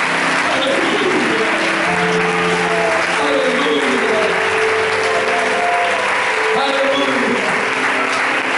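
A church congregation applauds loudly and continuously at a Spanish-language service, sustained clapping mixed with voices and cheers throughout.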